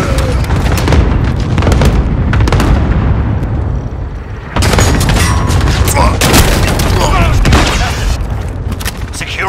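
Heavy explosions and gunfire from an enemy close strike and an RPG in Call of Duty: Modern Warfare boom in rapid succession, loud and close, with a brief lull before another dense barrage of blasts.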